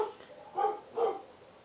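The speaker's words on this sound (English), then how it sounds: "You can hear my dogs." Pet dogs barking indoors at home: two short, fairly loud barks about half a second apart, with no talking over them.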